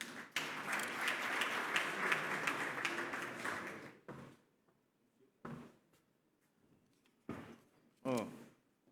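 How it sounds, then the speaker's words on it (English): Audience applause at a dialogue event as a speaker approaches the podium, steady loud clapping for about four seconds that cuts off, followed by a few scattered knocks and thumps in a quiet room. "Can we give him a round of applause?"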